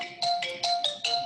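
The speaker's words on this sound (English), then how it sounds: "It's not supposed to be ringing." A mobile phone ringtone goes off in a classroom, chiming in repeated bright electronic bursts, roughly four quick pulses over a second, moderately loud and heard alone without talk.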